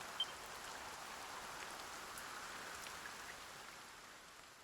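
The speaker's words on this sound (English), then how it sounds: "Lo, the rain doth fall" Steady soft rain falls in Dragon Quest I HD-2D Remake, an even, faint hiss of drops with no talking over it.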